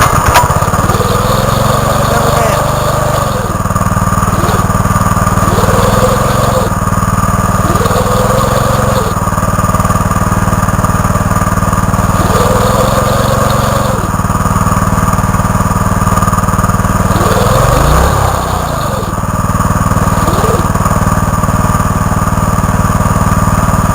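The engine of a Turf Surfer mower runs loud and close, repeatedly surging up and then letting off in a rough cycle every few seconds, with a deeper dip near the end.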